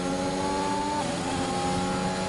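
A Ferrari race car engine in a Brazil Grand Prix racing video game drones loudly and steadily, its pitch holding high and shifting slightly as it runs, with no talk over it.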